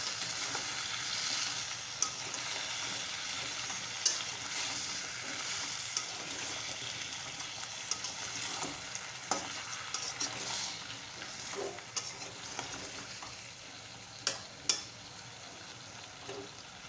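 Drumstick vegetable cooking with yellow and black mustard seeds in a pan gives a faint, steady sizzle, with occasional light scrapes and taps as it is stirred, heard close and without voices.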